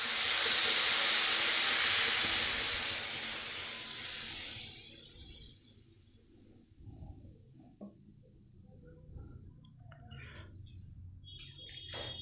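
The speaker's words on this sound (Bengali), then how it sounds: "জল ঢেলে দিলাম।" Water poured into a hot cooking pot of vegetables, giving a loud broad hiss that fades steadily over several seconds into quiet bubbling and faint kitchen clatter.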